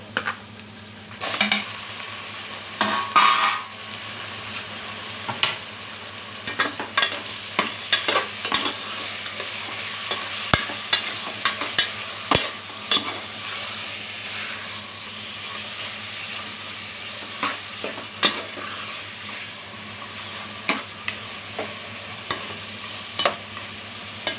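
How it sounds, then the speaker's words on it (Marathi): Marinated mutton sizzles in a pan with golden-browned onions. A continuous hiss of frying runs under repeated scraping strokes of a stirring spoon and occasional clinks against the metal pan. "कांदा आपला भाजलेला आहे आता त्याच्यामध्ये हे मॅरिनेट केलेलं मटण टाकू"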